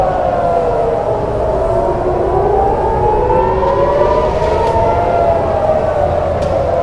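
Air raid sirens in Tehran wail continuously over a city during wartime strikes, their rising and falling tones overlapping loudly, with no voices over them.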